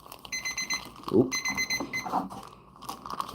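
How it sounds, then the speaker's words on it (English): A timer alarm rings in repeated bursts of bright electronic beeping during a live stream, fairly faint and mixed with rustling and handling noise. "This timer's going off because it's doing its thing."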